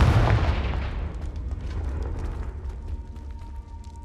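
A Confringo fire spell from Hogwarts Legacy bursts with a loud, deep boom at the start, then a rumbling, crackling decay and a low lingering hum, with no voices.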